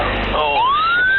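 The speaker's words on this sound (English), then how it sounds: "soon sirens start sounding off, while the aircraft's nose points skyward" An airport siren rises in a single upward wail after a low rumble, loud and fairly close, with a voice speaking underneath.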